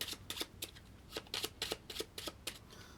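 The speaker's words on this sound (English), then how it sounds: "we're just going to give the cards an overhand shuffle" Deck of playing cards given an overhand shuffle, heard up close as a quick, irregular series of soft riffling slaps that is fairly quiet and without speech.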